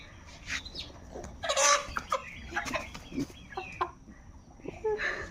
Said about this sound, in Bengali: মুরগি ধরেন